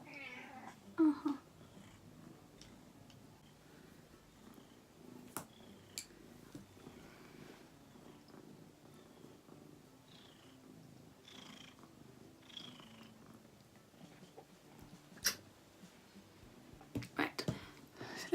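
Close, soft purring from a house cat runs steadily beneath quiet speech, broken by a few short meows and scattered handling clicks.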